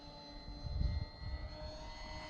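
A small airplane flies with a continuous engine drone and steady tonal hum, and low wind-buffeting rumbles swell briefly near the middle before settling back, with no speech.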